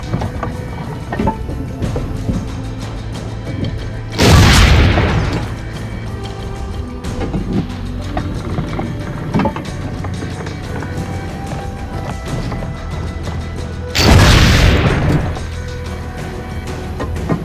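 Cannon fire in Assassin's Creed Brotherhood on PS3: two loud, heavy booms roughly ten seconds apart, each standing out sharply over a steady bed of game ambience.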